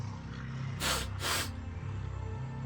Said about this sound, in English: You freeze as one of the drones lifts his head and loudly sniffs the air